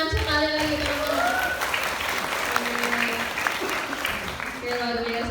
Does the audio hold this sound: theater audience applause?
yes